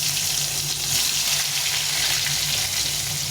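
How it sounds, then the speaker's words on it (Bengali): Eggplant pieces fry in hot oil before cabbage is cooked. The hiss is steady and bright and lasts the whole time, close and even, with no talking. "তেল গরম হয়ে গেছে, তেলের মধ্যে বেগুনটা ছেড়ে দেবো।"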